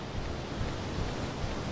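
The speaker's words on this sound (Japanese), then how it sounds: "すげえ音がしてんだけど、滝の。" Waterfall in the Monster Hunter Stories video game, a steady, dense rush of falling water with a low rumbling roar, continuous and uniform with no voices.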